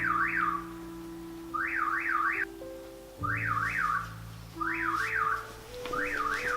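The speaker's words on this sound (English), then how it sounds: "There was a car alarm that was very rudely interrupting me whilst I was trying to record." A car alarm whoops in repeated rising-and-falling bursts, five cycles with short gaps, loud and fairly close, with no talking.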